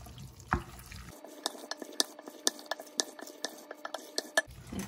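A spoon stirring chopped bacon and kale powder in a bowl, giving quiet, irregular clinks and scrapes close up, with no voices.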